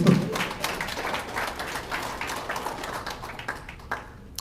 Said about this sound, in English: I gotta clap that.